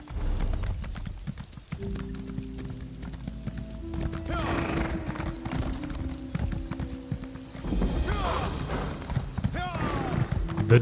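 Horse galloping at full speed in the video game Elder Scrolls Online, a steady clip-clop of hooves with an occasional whinny, layered under game music and ambient effects.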